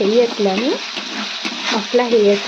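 Masala spices frying in hot oil for Odia aambila, a steady close sizzle with stirring scrapes running the whole time and no talk.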